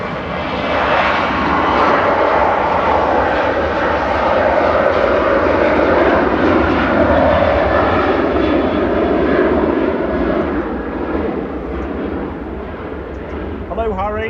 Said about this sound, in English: Sun Express departing now.